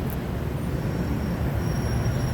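Pink Line monorail train passing through Muang Thong Thani on an evening with traffic, a steady low rumble of rolling wheels and hum that stays even throughout, with no talk.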